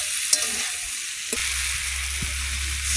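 Shrimp with garden ridge gourd, Malabar spinach and potato sautéing in a pan, a steady bright sizzle with a few clinks and scrapes of stirring, close and continuous.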